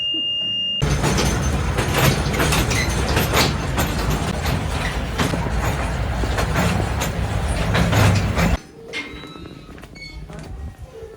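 A small open-air tourist train rumbles along steadily with broadband rattling and wind noise, loud and close, then cuts off abruptly near the end leaving quieter ambience.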